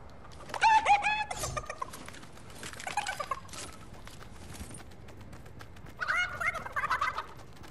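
Chicken in the Fortnite video game making loud, gobbling cluck-like calls in three short bursts separated by quiet pauses.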